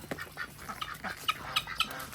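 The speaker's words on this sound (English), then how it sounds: "Bad duck." A duck at a farm animal sanctuary quacks in a short series of nasal calls, fairly close and moderately loud, with a few sharper honks toward the end and no talking.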